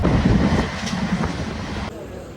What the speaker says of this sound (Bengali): ঠিক টাইমে ট্রেন ছেড়েছে